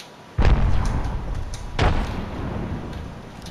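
Two loud, sharp grenade blasts in the Apex Legends battle royale game, the first near 0.4 s and the second around 1.8 s, each with a heavy low boom that fades into a rumbling tail.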